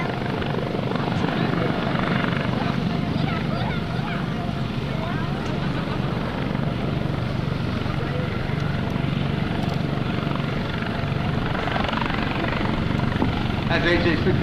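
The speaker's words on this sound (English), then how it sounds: "That's HH-65 Dauphin helicopter doing a slow hover." Coast Guard HH-65 Dauphin helicopter in a slow hover at an airshow over the Atlantic City coast, a steady loud rotor thrum and turbine whine that holds at the same level throughout, with an announcer talking over it.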